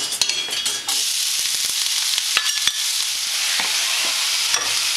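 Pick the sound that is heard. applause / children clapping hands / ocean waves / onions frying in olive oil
onions frying in olive oil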